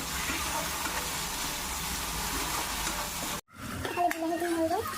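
Chopped tomatoes hit hot oil in a pan and sizzle loudly and steadily. After a short pause, scraping stirring and brief speech follow.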